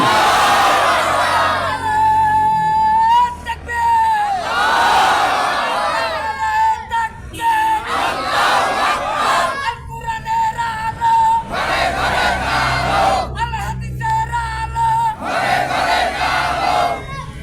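A large religious gathering roars a takbir in repeated massed shouts of Allahu Akbar, loud, echoing waves of many voices answering a call, rising and falling in several bursts.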